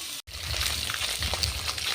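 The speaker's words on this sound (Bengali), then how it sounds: "এখন হচ্ছে মাছগুলো ভেজে নিতেছি" Tilapia fish frying in hot oil in a home kitchen, a steady crackling sizzle with spattering pops, close and continuous after a brief cut near the start, no talk.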